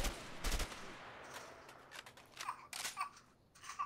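Gunfire from the video game A Way Out, as a weapon is test fired: a short loud burst of shots near the start, then a quicker cluster of rapid shots later, over a quiet background.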